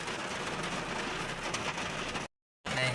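Heavy storm rain pours in a dense, steady hiss, loud and close, broken by a short dead gap near the end before the downpour resumes.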